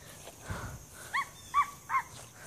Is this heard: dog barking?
yes